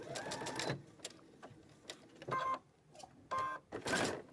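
A sewing machine runs a back stitch on a Quiltsmart Liberty Crown quilt. It gives one longer run, then several quick, close stutters of stitching with quiet gaps between them.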